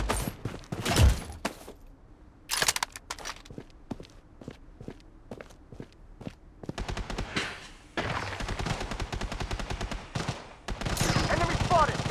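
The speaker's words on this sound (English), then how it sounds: "Taking fire!" Gunfire and footsteps in the shooter game Blood Strike: a sharp opening burst, then evenly spaced single shots, followed by long sustained automatic fire with movement sounds, loud and close.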